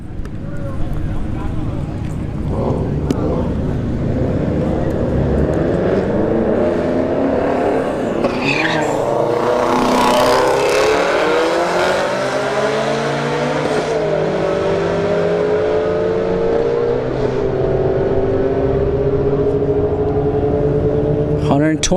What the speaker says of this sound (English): got a Shelby GT350 left lane. Golf GTI in the right lane.